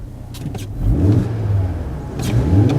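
An old Audi RS3's engine revs up twice through a custom exhaust with a deep, throaty rumble, loud and close, each rev swelling then falling back.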